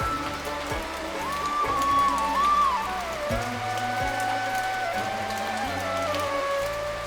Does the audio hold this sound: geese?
no